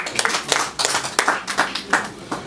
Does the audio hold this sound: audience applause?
yes